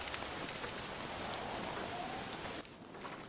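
Rain falls in the Red Dead Redemption video game, a steady, hissing downpour that is fairly quiet and continuous throughout.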